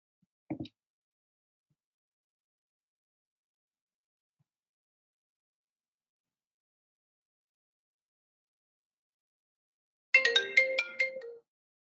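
A phone ringtone for an incoming call plays near the end, a short bright melodic tone after a long silence broken only by one brief sound at the start.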